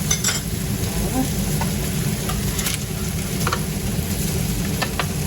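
Homemade burger meat frying in a pan gives a steady, dense sizzle throughout, close and fairly loud, with a few faint ticks and scrapes and no talk.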